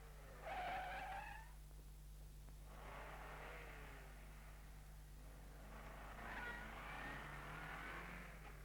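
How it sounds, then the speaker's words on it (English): A 1951 Monte Carlo Rally car runs a timed braking and acceleration test, its tyres skidding in a sharp squeal before the engine revs away, then a second car brakes and accelerates over a steady low hum. "And now for that braking and acceleration test"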